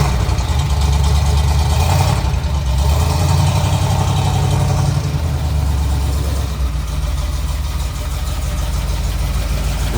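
A 1979 Jeep CJ-5 with a 304 V8 and Holley four-barrel carburetor idles steadily and loudly up close, a deep continuous rumble with slight throttle swells and no talking.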